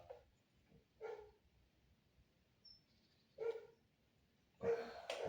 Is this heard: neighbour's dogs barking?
yes